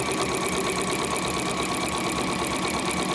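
A sewing machine quilts stitch lines across a fabric panel for an overlocker cover, its motor running in a fast, even, steady rattle that stays loud and close throughout, with no speech.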